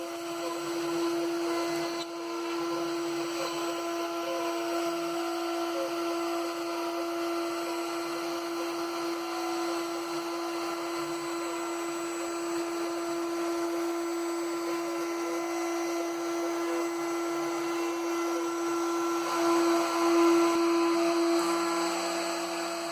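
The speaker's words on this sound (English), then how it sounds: "This is the step where I'm V-carving the school logos and names onto these stockings." CNC router V-carving school logos and names onto wooden stockings, giving a continuous high whine from the spindle with a steady tonal hum and a faint scraping cut underneath, running unbroken for over twenty seconds.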